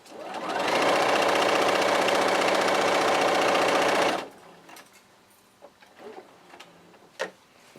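A sewing machine stitching a jelly roll race quilt runs in one fast, steady mechanical whir for about four seconds, then stops, leaving quiet fabric rustling and a few faint clicks.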